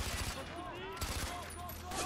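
Rapid gunfire in the shooter Far Cry 4, a dense burst of repeated shots with whizzing bullet sounds, loud and continuous over about two seconds.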